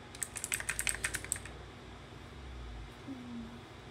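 Rapid, close clicking of keys on a computer keyboard, a quick burst of strokes that stops partway through and leaves a quiet room hum.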